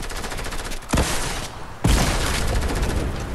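In Fortnite, a Golden Missile Launcher fires two heavy, booming blasts about a second apart. A dense rapid rattle of game gunfire runs throughout, close and loud.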